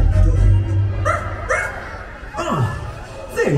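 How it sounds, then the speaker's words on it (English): A cartoon-style dog character barks and yips in a Disney Halloween fireworks show, several bright yelps in quick succession over a steady low rumble of crowd and show ambience. "Where is that dog?"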